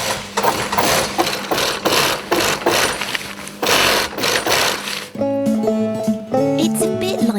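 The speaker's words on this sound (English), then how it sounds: "The sewing machine joins at the edges with thread using a special stitch so the material won't tear." An industrial sewing machine stitching nylon balloon panels, a loud, close, steady mechanical whirr with rapid needle rhythm that stops partway, giving way to music.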